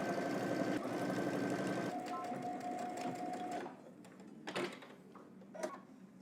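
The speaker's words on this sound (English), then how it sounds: "We're going to stitch all the way to the other side using 5/8 of an inch seam allowance" A sewing machine stitches a jacket seam along a 5/8 inch allowance, whirring steadily and fairly close for about four seconds before stopping, followed by faint handling clicks and bumps.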